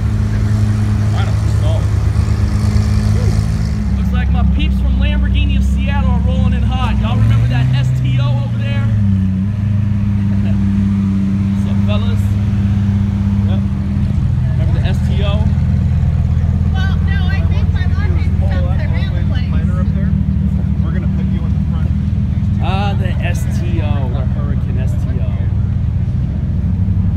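Lamborghini sports cars, including Aventadors, rolling past at an Italian sports car day gathering, with loud steady engine rumble throughout and people talking over it.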